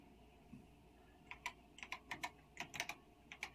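Quiet keystrokes on a Tandy Color Computer (CoCo) keyboard, an irregular run of clicks tapping out a short burst of typing in a calm room.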